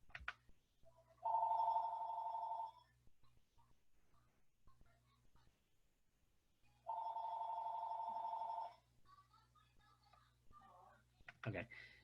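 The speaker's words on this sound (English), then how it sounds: "the phone was ringing, make sure that wasn't in the recording when I go back and edit this" A telephone rings indoors with two long electronic trilling bursts several seconds apart, moderately loud, while a person speaks softly in between.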